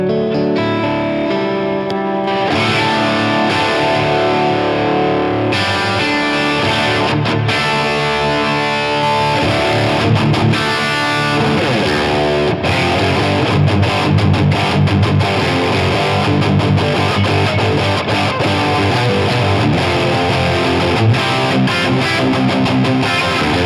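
Electric guitar through a Helix Stadium amp model, a sustained, shimmering clean tone with chorus and echo, played loud and continuous in layered chords and melodic lines with no talk.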